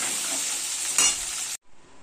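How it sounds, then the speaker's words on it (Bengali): Small potato pieces fry in hot oil, giving a loud, continuous sizzle with a brief burst of stirring before it cuts off abruptly. "এই আলুগুলোকেও এখন আমি একটু লাল করে ভেজে তুলে নেব।"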